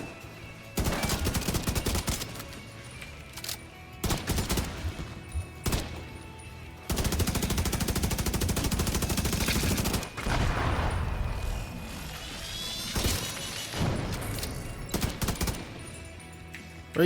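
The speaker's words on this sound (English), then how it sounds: "double pulse. Little burst fire." Burst-fire weapon shooting in the video game Starfield, with rapid volleys of shots in several clustered bursts separated by short pauses, loud and close throughout.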